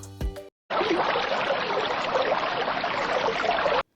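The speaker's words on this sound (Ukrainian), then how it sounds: "Послухайте малята, як шумить струмочок." A continuous rushing, babbling stream runs steadily for about three seconds after a brief opening tone, then cuts off abruptly.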